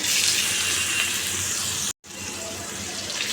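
Long pumpkin strips fry in hot oil tempered with black cumin and dried chilli, giving a loud, even sizzling hiss close up, broken by a sudden brief silence before the frying resumes.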